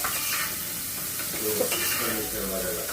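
Onion sautés with asafoetida in a pan, giving a steady close sizzle and hiss with soft stirring scrapes throughout, without any speech.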